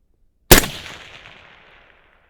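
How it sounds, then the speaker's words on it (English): A single loud shot from a Haenel CR6.5 long-range rifle: a sharp, sudden crack followed by a decaying echo that rolls away over about a second and a half. "Let's take the same exact shot and see if the wind is my friend."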